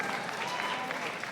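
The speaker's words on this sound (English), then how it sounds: "That got clapped." An audience claps through a talk about making money on the internet, the sound a steady, dense patter of many hands that holds level from start to finish with no voices over it.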